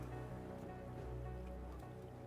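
A saltwater geyser erupting in Oxygen Not Included gives a steady, hissing gush of water, a continuous low rush that holds at an even level for the whole stretch with no breaks.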